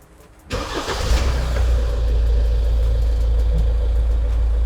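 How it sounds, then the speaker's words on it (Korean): A Hyundai Santa Fe The Prime 2WD engine cranks and catches after a moment of quiet, then settles into a steady, smooth idle with a low rumble, recorded up close with no talking. "시동을 한번 걸어 보겠습니다"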